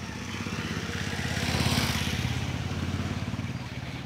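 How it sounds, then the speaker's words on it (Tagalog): A motorcycle engine drones past at 3 a.m. near a cemetery, swelling to a peak midway and then slowly fading, with faint voices underneath. "Meron lang motor."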